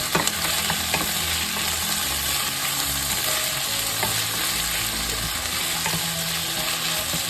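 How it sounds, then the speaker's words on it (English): Onions sauté over medium-high heat in a pan for a stir-fried bitter melon and beef dish, giving a loud, continuous sizzle and crackle with occasional stirring scrapes and no voices. "start sauteing until our onions are tender."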